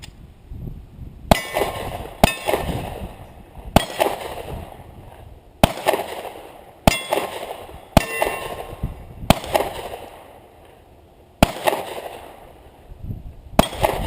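Handgun shots fired at targets in a zombie-themed shooting drill, about ten sharp, loud cracks spaced irregularly a second or so apart, each ringing briefly before the next.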